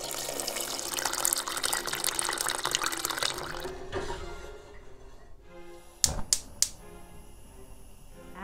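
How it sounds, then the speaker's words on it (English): Cold water from a tap runs with a steady, close splashing rush as it pours over baby Yukon Gold and red potatoes in a medium saucepan. The flow stops, and a few sharp knocks follow. "I'm going to cover them with cold water."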